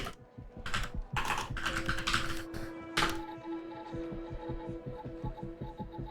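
Computer keyboard typing in the video game The Operator: bursts of crisp key clicks in quick clusters, then a steady electronic hum with soft rhythmic pulsing, close and fairly quiet with no talk.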